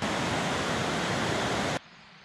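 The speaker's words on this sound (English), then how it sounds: "I can hear Deer Creek in the background." Deer Creek's flowing water at the Eden Mill trails in Harford County makes a loud, steady broadband rush that cuts off abruptly near the end of the brief stretch.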